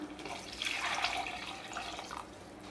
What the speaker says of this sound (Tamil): அதுக்கப்புறமா இதில் தண்ணி சேர்த்துக்கலாம்.